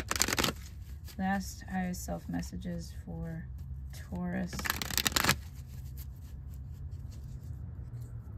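Tarot cards being shuffled in bursts, a riffle near the start and another around the middle, close and crisp, while someone talks over much of it.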